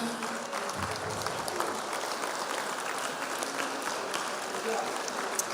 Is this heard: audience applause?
yes